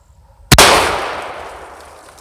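One loud 20 gauge shotgun blast fired at fenders from 10 yards cracks sharply after a short quiet pause, then its echo decays over nearly two seconds outdoors.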